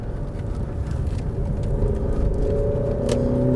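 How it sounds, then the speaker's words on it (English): An Alfa Romeo Stelvio Veloce SUV is driven hard into a bend on a narrow road, its engine a steady droning hum that builds slightly as it accelerates, heard from inside the cabin with no talk. "Let's chuck this car into a bend."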